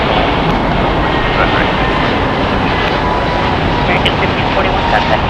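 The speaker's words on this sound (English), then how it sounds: "Departing American Airlines Flight 1541 going to San Jose del Cabo. It is an Airbus A321neo." An American Airlines Airbus A321neo departs from LAX, its jet engines a loud, dense, continuous roar with steady broadband rumble throughout.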